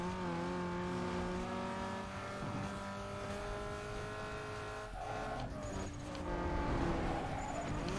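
Racing car engine in Need for Speed Underground 2 holds a steady loud drone with harmonic whine across the whole stretch, with a brief dip and rising rev near the middle and faint tire squeal on top.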